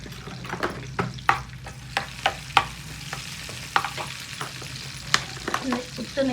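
Black pepper and cumin crackle in hot ghee for a tempering for pongal, a soft sizzling hiss broken by sharp, irregular spatters and spoon scrapes, close up with no voices.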